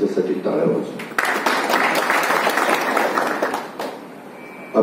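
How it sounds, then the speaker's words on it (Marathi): An audience applauds at a photographers' association workshop in Akole taluka. A voice is heard briefly, then a burst of clapping lasts a few seconds before fading back toward talk. "त्यांच्यासाठी टाळ्या वाजू"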